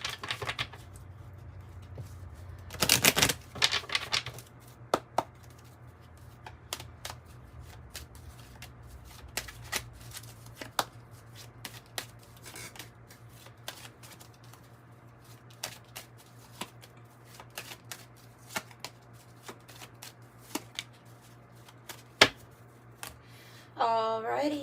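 Crisp riffling bursts of a Kipper tarot deck being shuffled, close and fairly quiet, with scattered taps and card flicks over a low steady hum, plus a brief voice near the end.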